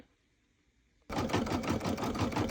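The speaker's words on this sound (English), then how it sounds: "while this one's stitching out, it's stitching grass" An embroidery machine stitching a grass design in a 5x7 hoop starts abruptly after a quiet second, then runs loud and close with a fast, steady mechanical rattle.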